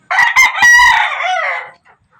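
A rooster crows once, loud and close, with a sharp broken start and a long drawn-out tail, among penned chickens.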